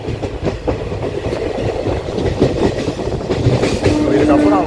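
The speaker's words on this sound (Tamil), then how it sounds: "வண்டி இப்போது பூதலூர் ஸ்டேஷன் கூட என்டர் ஆகுது" Express passenger train rolling into Budalur railway station, with steady wheel rumble and rhythmic rail clatter building slightly in loudness, a faint tonal squeal near the end, heard from on board.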